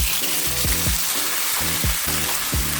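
Shredded Simply Potatoes hash browns sizzle steadily in a hot pan, a dense broadband frying hiss running throughout, with no talking over it.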